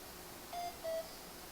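Cell phone giving its charged reminder, two short electronic beeps in quick succession, faint over a steady background hiss.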